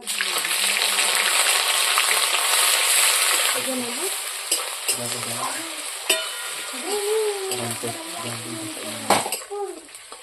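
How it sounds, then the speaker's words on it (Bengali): Bay leaf and crushed onion dropped into hot oil for Mahuya chicken give a loud, dense sizzle that settles into steady frying, with a spatula clinking now and then and a voice talking over it. "তেল গরম হয়ে গেছে। এখন প্রথমে দিয়ে দিচ্ছি তেজপাতা, পেঁয়াজ থেতলে করে নিয়েছি ওইটা দিয়ে দিচ্ছি।"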